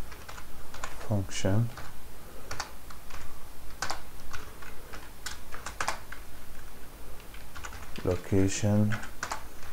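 Quick keystrokes on a computer keyboard as code is typed for a reset button in an HTML, CSS and jQuery ping-pong game, close and steady throughout, with someone talking over it in brief bursts.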